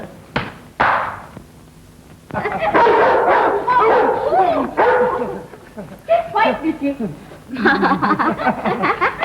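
A dog gives a few sharp barks and yips amid lively conversation and chuckling indoors, with the voices dominating.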